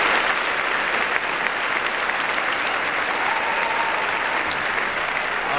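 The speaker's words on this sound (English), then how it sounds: "Can we just get another round of applause for our awesome panelists and speakers?" A large audience applauds panelists and speakers at a digital self defense event, sustained loud clapping filling the room without letup.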